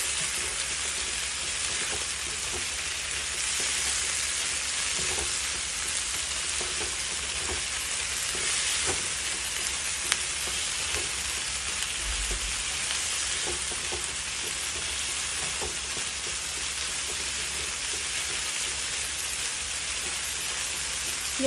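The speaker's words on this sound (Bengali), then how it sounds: "এবার ভালো করে নাড়াচাড়া করে মিশিয়ে নেব।" Chickpea curry with egg frying in a pan, stirred and mixed, gives a steady broadband sizzle with scattered soft scraping clicks that runs unbroken throughout, close and fairly loud, with no talking.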